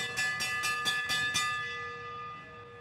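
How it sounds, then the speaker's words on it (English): A bell is struck six times in quick, even succession to mark the final lap of a track race at a state championship meet, and its ringing tone lingers and fades after the last stroke. "here we got the bell for Bober"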